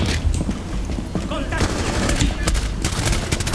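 Heavy gunfire in a Rainbow Six match, loud rapid bursts of automatic shots and scattered single cracks running throughout, with voices talking over the shooting.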